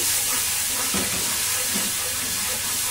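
Spices with sugar and Kashmiri chilli powder stirred in a hot pan, giving a steady, close sizzling hiss with soft scraping strokes throughout.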